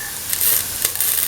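Chopped garlic hitting hot oil in a pan for a potato chickpea coconut milk stew, giving a bright continuous sizzle with a few stirring scrapes, close and fairly loud.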